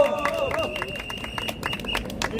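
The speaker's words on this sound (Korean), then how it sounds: "박수 부탁드립니다." Audience clapping at an outdoor press conference calling for a fair trial, a scattered round of hand claps over crowd noise and overlapping talk.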